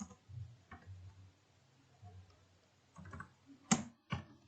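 Sparse keystrokes on a computer keyboard while values are entered into an Excel spreadsheet: a few scattered soft clicks, then a quick cluster of sharper taps near the end, close and quiet with no talking.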